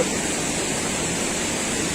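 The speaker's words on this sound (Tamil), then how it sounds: "இந்த அருவியை உங்களுக்கு அறிமுகம் செய்து வைக்கிறேன்" A waterfall in Kanyakumari district, India, roars as a loud, steady wash of rushing water, broad and continuous with no breaks, close and dominant with no talk over it.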